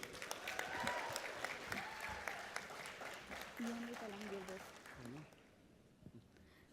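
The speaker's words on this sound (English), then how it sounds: "Let's give a huge round of applause for CA.Naveen, the architect of modern auditing." An audience at a technical conference session claps for a speaker, a moderate, fairly distant round of applause with voices talking over it, tapering off toward the end.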